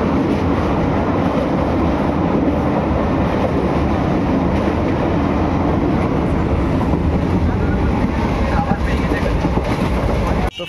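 Train passing near the Krishnanagar Rajbari fair grounds in Bengal, a loud, continuous rumble and rattle of wagons rolling by close up, steady throughout and ending abruptly, with no voices clear above it.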